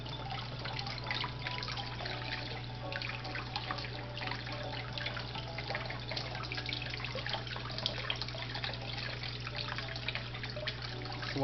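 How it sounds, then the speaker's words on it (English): Cold water runs steadily from a kitchen tap over a peeled hard-boiled egg, a continuous soft splashing trickle at low volume, with no voices heard. "You run the cold water and let it go up under the membrane."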